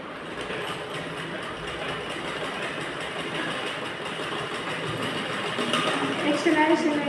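A sewing machine stitching a blouse runs with a steady whirring mechanical hum, close and continuous, under a person talking.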